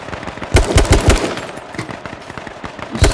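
Rapid bursts of gunfire in the H1Z1 battle royale video game, loud and close, with clustered shots early on followed by sparser scattered shots.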